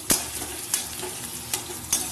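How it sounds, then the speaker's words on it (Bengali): Eggplant frying in a pan, a soft continuous sizzle with a few sharp spatula clicks against the pan at irregular intervals, quiet and close with no talking. "আর বেগুন সব ভাজা হয়ে গেছে, আর এই একটাই আছে, ভাজা হয়ে গেলে তারপর অন্য রান্নায় হাত দেবো।"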